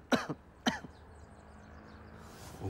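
A man coughs twice in close succession, sharp and near, followed by quiet room tone.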